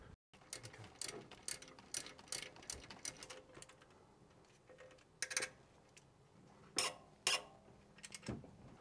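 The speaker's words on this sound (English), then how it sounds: "I'm going to use the big wrench just to make sure I get enough leverage to really cinch it down." Large wrench cinching down an alternator bolt on a 2.7-liter Toyota Tacoma, giving close, rhythmic ratcheting clicks in short bursts, with a few louder metallic clacks near the end.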